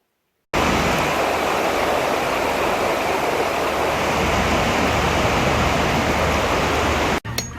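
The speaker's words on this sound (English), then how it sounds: "It's pouring down. Hopefully it will stop." Heavy rain pours down outdoors at a patio job site, a dense, constant hiss that starts suddenly, holds evenly for several seconds and stops sharply, with no one speaking.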